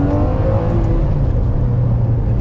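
Ferrari 599 V12 engine revving, a loud close throaty roar that climbs and holds steady for a couple of seconds.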